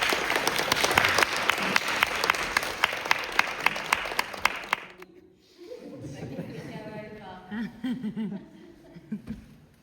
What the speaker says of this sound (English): Please make some noise for Lily Redwood